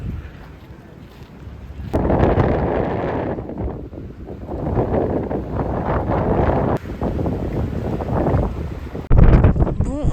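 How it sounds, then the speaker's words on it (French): Strong wind buffets the microphone at Puente del Inca, a natural rock bridge in the Mendoza Andes near Aconcagua, roaring in loud gusts with heavy low rumble that swell and ease throughout. "Un peu de vent quand même, je sais pas si vous m'entendez."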